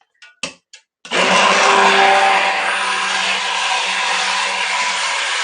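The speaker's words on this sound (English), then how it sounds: "I'm going to stick blend it just until it's nice and smooth and there are no lumps remaining." A stick blender whirs loudly and steadily for several seconds, blending a soap mixture, after a few short clicks and bumps at the start.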